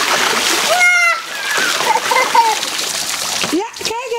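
Water splashes and sloshes as something is filled, with a child and an adult talking over the broadband spatter throughout.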